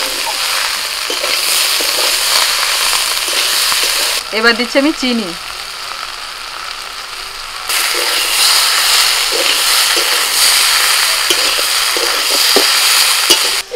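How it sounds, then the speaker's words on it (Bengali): Mixed vegetables with chopped tomato and coriander sizzle loudly in a pan as they are stirred, a dense hissing fry that runs nearly continuously; someone speaks briefly partway through while the frying dips, then the sizzle returns strongly. "সবজিগুলো অনেকটাই ভাজা ভাজা হয়ে গেছে"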